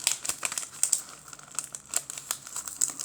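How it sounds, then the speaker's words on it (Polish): A small taped package holding a praying mantis, with fruit flies inside, is carefully unwrapped: close, dry crinkling and tearing of tape and plastic wrap in quick irregular bursts, no talking. "Otworzymy sobie teraz to zawiniątko."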